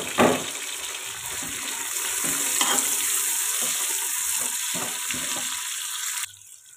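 Green chilies and tomatoes dropped into a pan of frying garlic and ginger, hissing in a steady loud sizzle with stirring scrapes, then cutting off abruptly near the end.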